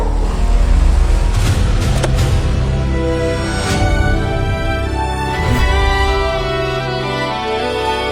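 A car engine runs steadily with a low rumble and occasional revving surges, loud and close, with no voices over it.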